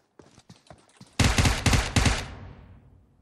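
Gunfire in PUBG Mobile: a few quick, light shots, then a louder close burst of rapid fire that rings out and fades.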